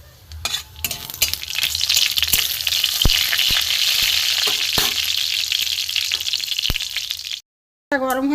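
Panch phoron spices crackling in very hot mustard oil in a kadai, a loud dense sizzle with sharp pops and spatters and some stirring clinks, briefly cut to silence near the end before resuming.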